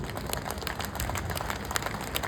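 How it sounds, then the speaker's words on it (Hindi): An audience at a Hindi poetry recital claps together, a steady, fairly soft patter of many hands sustained throughout with no speech over it. "ताली इस बात पर बजाना"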